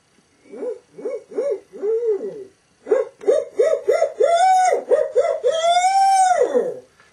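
A person imitates a barred owl's hoot as a turkey-hunting call: a few separate whooping hoots, then a longer, faster run of rising hoots ending in a drawn-out note, loud and close with no other sound.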